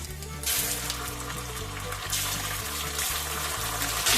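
Chopped green chilli and ginger paste frying in oil in a pan, a steady close sizzle that flares louder in bursts as the paste goes in and is stirred, no talking over it.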